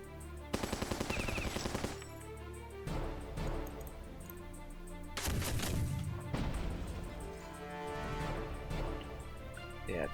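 Battleship cannons in the Battle Nations video game firing in rapid bursts of sharp, crackling blasts, several clusters of shots over a few seconds, fairly quiet and without speech.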